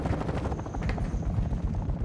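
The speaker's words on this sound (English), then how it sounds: "Friendly chopper gunner servicing target." Friendly chopper gunner helicopter in Call of Duty: Modern Warfare 2 on the Black Gold map: a loud, steady rotor chop mixed with rapid bursts of heavy gunfire.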